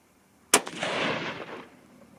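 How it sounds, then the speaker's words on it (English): A single loud gunshot from a Remington 700 BDL rifle in .243 Win cracks sharply and nearby, then a rolling echo fades over about a second. "let's go ahead and shoot that first shot"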